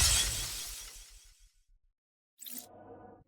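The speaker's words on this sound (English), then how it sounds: "leaving only the sound of your suit shattering" Metroid Dread game-over effect of the armored suit shattering: a loud glassy crash that decays over about a second and a half into silence, then a brief quieter shimmering burst with a low tail.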